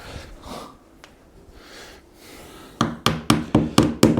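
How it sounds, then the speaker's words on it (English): A hammer drives nails into tongue and groove kitchen panelling at a steady rhythm, six quick sharp knocks, preceded by quieter handling noises and breathing. "but I can use my hammer"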